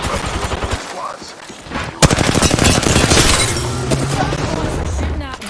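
Gunfire in the video game Apex Legends, loud close bursts of rapid shots that build into a dense stretch of automatic fire, mixed with game noise and some voice.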